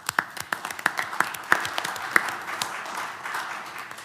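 Audience at a university board meeting gives a round of applause, scattered sharp claps at first that blend into steady, moderately loud clapping from a room of people.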